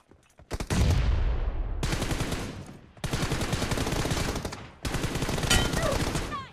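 Sustained automatic gunfire in PUBG Mobile during a one-versus-squad team deathmatch, delivered as several long, loud, dense bursts separated by short pauses, close and dominant, with no voice over the shooting.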